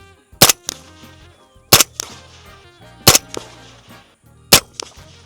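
Four sharp rifle shots from a PSA JAKL ring out at a range, evenly spaced about a second and a half apart, each loud crack followed by a brief echo and clatter.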